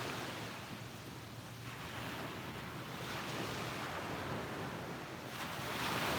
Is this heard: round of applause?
no